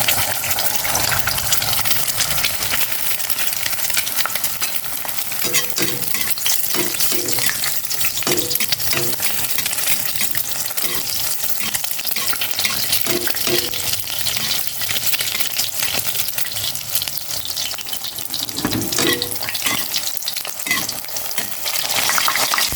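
Steady, dense sizzling of an egg frying in hot oil, continuous and close, with occasional soft clinks and stirring sounds.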